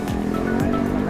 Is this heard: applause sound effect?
no